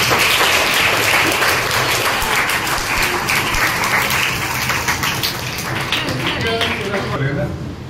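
Loud, sustained applause from a school audience, dense clapping filling the whole stretch before easing off slightly at the very end.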